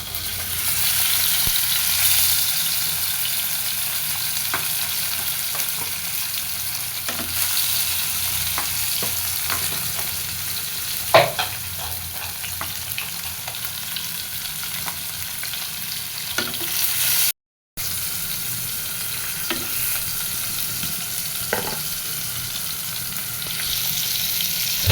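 Fish fries in a pan with a constant close sizzle, broken by scattered clicks and scrapes of stirring and one brief dropout to silence.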